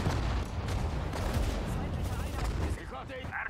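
Artillery guns fire in a Sudden Strike 4 battle, a dense run of booming shots and rattling gunfire layered together, with voices talking over the din.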